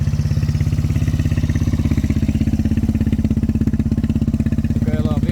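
A quad bike (ATV) engine idles steadily after air filter and exhaust flow tuning, a loud, even low throb with rapid regular pulses filling the whole stretch, no voices over it.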